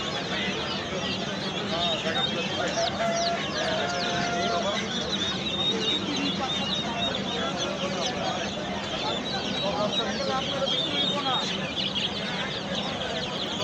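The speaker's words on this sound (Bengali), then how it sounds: "এখানে বড় বড় কিছু ব্রাহ্মা মুরগি দেখতে পাচ্ছেন" Chickens, including large Brahma hens, cluck steadily among fancy poultry, ducks, rabbits and pigeons at a busy market stall, a dense nearby chorus of clucks with crowd chatter and voices underneath throughout.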